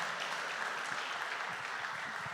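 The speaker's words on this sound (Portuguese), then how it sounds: "Uma salva de palmas." A church congregation at a Wednesday service gives a short burst of applause, a soft, dense, even patter of many hands heard from a distance.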